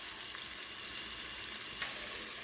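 Shrimp frying in hot grease, a steady bright sizzle and crackle with constant spattering and no voices.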